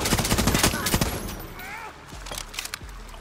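Bursts of rapid gunfire crackle through a Far Cry 6 firefight, dense and loud in the first second, then thinning to scattered shots, with voices speaking over the shooting.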